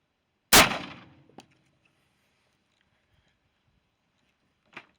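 A single rifle shot firing a 50 grain V-Max varmint bullet cracks loud and close, followed by a decaying echo, a brief metallic clank, then quiet until a faint second tap near the end.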